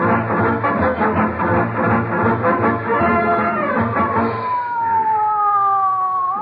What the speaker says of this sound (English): Hurry up, Molly. Call an ambulance.